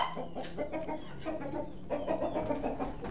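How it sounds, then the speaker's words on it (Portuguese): A chicken clucks in short, soft bursts close by, over a busy background of rustling and scattered noise. "Tô ouvindo a galinha?"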